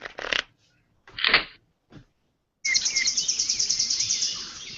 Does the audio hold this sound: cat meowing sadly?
no